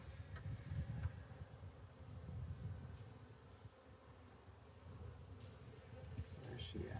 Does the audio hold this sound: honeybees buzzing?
yes